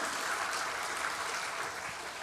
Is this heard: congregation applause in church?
yes